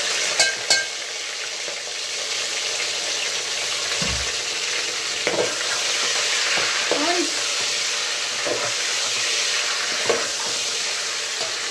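Chunks of mutton or beef for aloo gosht frying in a pot over high heat, a steady close sizzle with occasional stirring clatter, no talking.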